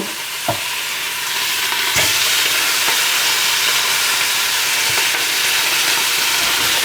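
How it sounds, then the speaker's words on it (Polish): Beef chuck dropped in batches into strongly heated lard in a metal pot, sizzling and frying loudly and steadily at close range, with a few brief clunks and stirring knocks breaking through the dense hiss. "No i teraz na mocno rozgrzany smalec wrzucam mięso."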